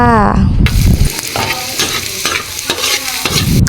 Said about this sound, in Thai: เราจะเจียวกระเทียมให้หอมเลยนะคะ